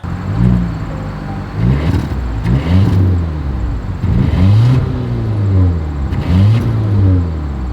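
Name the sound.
2024 Volvo V90 Cross Country exhaust revving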